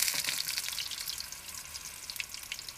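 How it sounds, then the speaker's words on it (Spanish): Bananas frying in hot oil, a steady bright sizzle with crackling pops running throughout at close range. "Una vez caliente, ponemos los bananos, vamos a freírlos"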